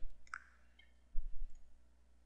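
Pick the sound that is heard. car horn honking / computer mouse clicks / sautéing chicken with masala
computer mouse clicks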